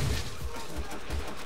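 Gunfire in Call of Duty: World at War, a rapid fusillade of game weapon shots with low thumping bursts repeating through the moment, steady and fairly loud.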